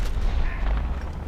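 A small-caliber tank gun on an M4A5 tank fires in War Thunder Mobile, producing a short, loud, close boom with a deep low-end thump that fades quickly.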